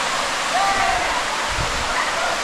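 The Medaram waterfall at Gandhari, a steady broadband rush of falling water that fills the whole clip, with a faint voice briefly audible beneath the roar.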